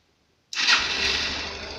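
Motorcycle engine starting at home during an electrical check: silence, then a sudden loud crank that catches within a second and settles into a steady, close idle with no talk.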